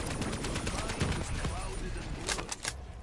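Rapid gunfire in Black Ops III zombies on the Gorod Krovi map, shooting at a mech robot, with dense repeated shots running throughout over busy game noise and a talking voice.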